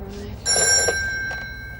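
Old-style telephone bell ringing indoors, a sharp metallic ring that bursts in loudly and then fades, with a voice briefly heard beforehand.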